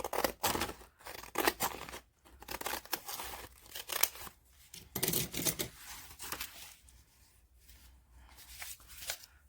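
Decorative-edge scissors with blue handles, the kind that leave a torn-paper edge, snip through paper for a glue book, a series of close crisp crunching cuts with short pauses between them.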